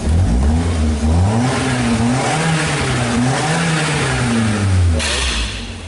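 A Nissan Sunny engine with a recent engine swap runs steadily and climbs in revs, loud and close, with the pitch rising and falling as it accelerates.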